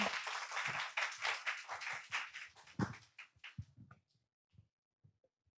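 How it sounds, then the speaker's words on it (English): Audience applause at a parenting conference keynote session, a burst of clapping for about four seconds that quickly thins to a few scattered, fading claps. "Let's give a round of applause for Dr. Eva."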